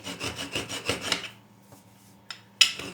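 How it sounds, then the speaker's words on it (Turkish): Rolling pin rolling out sugar paste fondant for a cake, a quick series of close, soft rubbing strokes in a steady rhythm, then a pause with a couple of light knocks. "Güzelce yuvarlak olacak şekilde şeker hamurumuzu açıyoruz."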